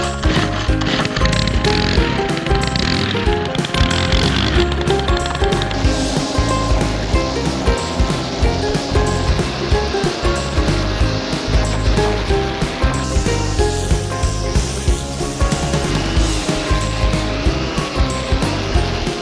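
A string trimmer tears through thick, overgrown brush studded with small tree trunks on cleared land, its loud motor whining nonstop with a rapid pulsing flutter throughout.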